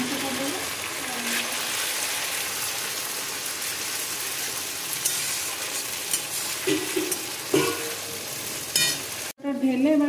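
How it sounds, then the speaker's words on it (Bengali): Goat meat frying with spices in a pan gives a continuous loud sizzle and crackle, broken by occasional scraping and stirring clatters, before a sudden cut near the end. "ঢেলে এবার কষতে শুরু করলাম।"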